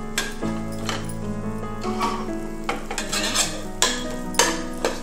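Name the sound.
stirring spice powders in a cooking pan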